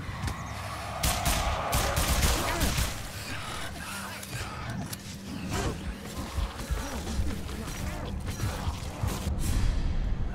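Bursts of gunfire in the video game Escape Dead Island, scattered shots and clattering mechanical noises over a busy game soundscape, with faint talk in places.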